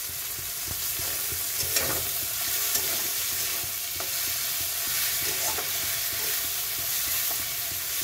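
Green chillies fry in a pan with a steady close sizzle under regular stirring and light scraping, alongside prawn and ol stalks in a home kitchen.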